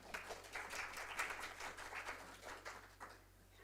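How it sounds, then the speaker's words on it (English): Applause from a small group at a school board meeting, a brief patter of clapping lasting a few seconds, moderately close and fading toward the end. "Round of applause for both of them"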